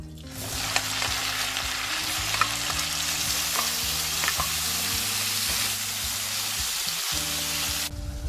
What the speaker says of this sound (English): Into this, I am going to add paneer and lightly fry them up.